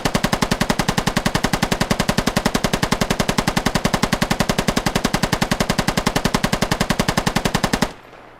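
Sustained automatic suppressive gunfire during a military basic training drill, a rapid, steady stream of loud shots for about eight seconds that stops abruptly, with no talk.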